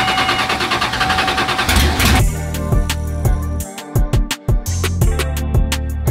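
Small block Ford 427 V8 in a Fox Body with open headers fires up, starter whir giving way to a loud, lumpy, choppy idle with sharp rhythmic exhaust pulses close by.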